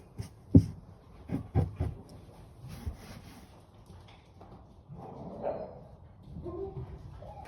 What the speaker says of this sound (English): The dogs are going mental.